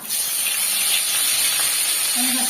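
Tilapia fish pieces frying in hot oil, a loud, steady hissing sizzle right up close that holds evenly, with a faint tonal hum entering near the end.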